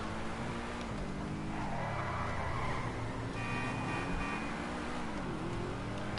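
A car driving in GTA Online, with steady engine drone and wavering pitch as it moves, plus a faint skid or tire hiss partway through, continuous and fairly close with no talk.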